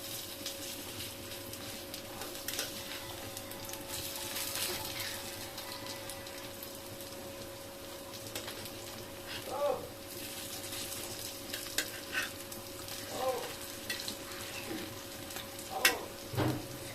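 Lentil fritters (dal bora) fry in oil with a soft, steady sizzle and a few faint clicks and pops, heard quietly up close.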